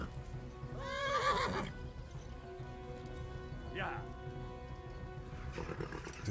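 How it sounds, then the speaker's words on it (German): Horse neighing in the video game Kingdom Come: Deliverance, one loud whinny near the start and a shorter one later, over game ambience with someone talking. "Ich glaube, das Pferd ist wirklich erschöpft."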